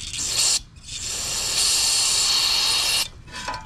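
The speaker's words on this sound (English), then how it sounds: "Spray it up in there real good." Aerosol carburetor cleaner hisses in two bursts, a short one followed by a long sustained blast, close by, with no talking.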